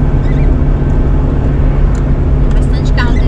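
Cars pass on a single-lane highway in São Paulo state beyond Mococa, heard as a steady road roar from inside a moving vehicle, with brief whooshes of passing traffic near the end and people talking over it.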